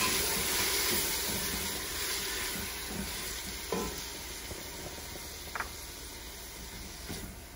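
Onions and tomatoes sizzle and fry in a pan for a dhaba-style mutton curry, a steady crackling hiss with a few sharp stirring clinks, no talking.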